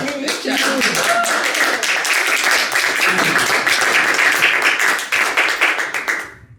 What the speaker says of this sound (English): I wanted to applaud now